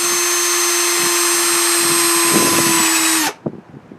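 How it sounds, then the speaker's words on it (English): A power drill boring through wood while building a garden raised bed, a loud, steady, high motor whine held for about three seconds before it cuts off, leaving a couple of faint knocks. "I'm actually going to attempt to hold this down low and drill straight through."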